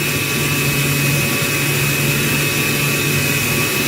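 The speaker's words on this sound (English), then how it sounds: "we're going to turn on our Dremel, full speed" A Dremel rotary tool spins at full speed with a Q-tip polishing a Makerbot Method 3D printer hot end. It gives a loud, constant high-pitched whine with no break.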